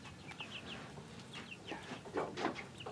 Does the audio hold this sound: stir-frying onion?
no